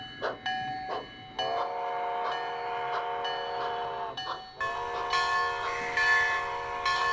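A passing train at the Tiburon railroad and ferry terminal sounds clanging bells and sustained whistle tones, the ringing bell strokes repeating over drawn-out whistle blasts that shift pitch partway through, loud and close.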